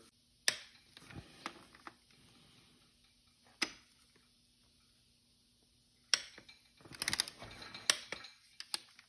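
Torque wrench tightening bearing bolts on an Audi A4 2.0T engine: sparse, faint clicking and ratcheting with metallic ticks, a few isolated snaps followed by a cluster of quick clicks near the end, no speech.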